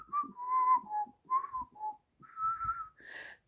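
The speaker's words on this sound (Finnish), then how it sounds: "Viheltääpi hän näin tytön akkunaan." A person whistles a tune of the Helsinki street-boys' song, clear melodic phrases with short pauses between them, close and alone without any talking.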